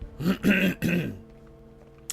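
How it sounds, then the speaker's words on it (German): A man clears his throat forcefully in three rough, close bursts, followed by a short pause and a faint click. "wenn man sich so sehr räuspern muss"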